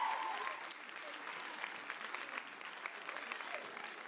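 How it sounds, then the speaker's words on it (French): A cinema audience at a film premiere in Dijon applauds the director, steady dense clapping throughout with scattered louder claps and faint voices underneath. "je vous demande de l'applaudir très fort le réalisateur du film"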